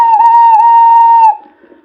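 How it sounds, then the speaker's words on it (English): A toy steam engine whistle gives one long steady shrill blast, loud and close, then cuts off sharply and leaves a faint tail. "The engines whistled and called out when they reached the cottage."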